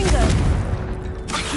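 The Confringo blasting spell in Hogwarts Legacy, a dense rumbling burst of booming impacts that swells, briefly thins, then returns, loud and close with a faint tonal hum beneath.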